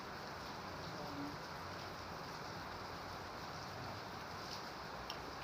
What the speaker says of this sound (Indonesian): Hujan-hujan awet.